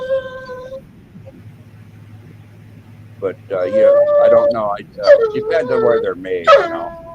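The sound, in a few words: dog whining and howling, begging for treats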